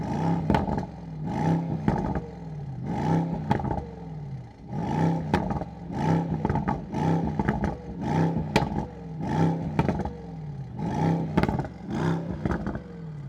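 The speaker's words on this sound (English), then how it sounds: "listen up to the sound of the AMG GT63 V8 bi-turbo AMG engine" Mercedes-AMG GT63 2024 with twin-turbo V8 engine revving hard in Sport Plus, a steady series of loud, rhythmic throttle blips roaring and falling back close by, with no talking.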